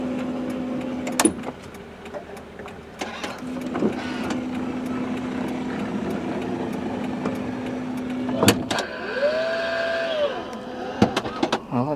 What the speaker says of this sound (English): we do have a power door on the passenger side for the rear door